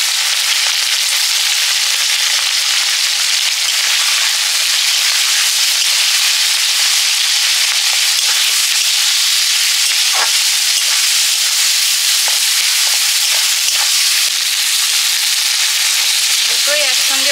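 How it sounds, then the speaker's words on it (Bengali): Onion, green chilli and shrimp fry together in hot oil, producing a loud, continuous close-up sizzle and hiss with occasional crackles and light stirring, no talking. "ফোড়ন দেবো তেলে, পেঁয়াজ, কাঁচা লঙ্কা, সঙ্গে আমি চিংড়ি মাছটাও ভেজে নেব।"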